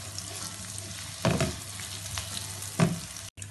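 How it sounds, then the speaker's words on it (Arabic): Chopped onion sautéing in a pan with oil for a shawarma casserole, a steady close sizzle with two brief louder bursts as it is stirred, no talking. "نشوح البصلة دي معانا كده لحد ما تدبل وتاخد لون اصفر حلو"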